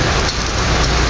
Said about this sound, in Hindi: लेकिन ये बारिश ऐसे महसूस हो रही है जैसे वो शावर नहीं किसी ने पानी के पाइप खोले हुए हैं